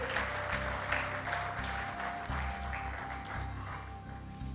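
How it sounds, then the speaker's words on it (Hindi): Audience applause for women volunteers at a national youth meet in Bangalore, steady clapping sustained for several seconds over a low, rhythmic music bed. "जोरदार ताली हमारी बहनों के लिए।"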